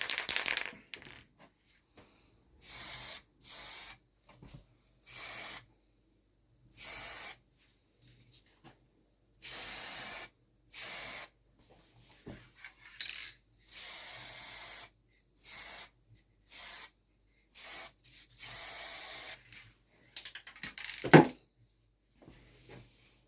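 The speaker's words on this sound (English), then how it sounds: "then I'm going to apply a spray varnish just to tack everything off" Spray varnish hisses from an aerosol can onto a hiking stick in a series of short bursts, around a dozen close, separate sprays with quiet gaps between them and faint handling noises.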